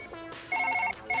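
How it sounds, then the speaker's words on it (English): A telephone rings in the surgery video game Surgeon Simulator, two bursts of electronic warbling trill over a faint background hum, clear and close with no talk. "That's the phone ringing."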